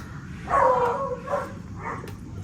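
Dogs give a few short, whiny barks and yelps in quick bursts, moderately close, over a low background hum.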